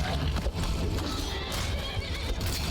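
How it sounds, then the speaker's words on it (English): A horse neighs and whinnies in the video game Skyrim while under attack by zombies, with hooves clopping and a busy combat din filling the background. "Stop attacking my horse, please. My horse did nothing to you."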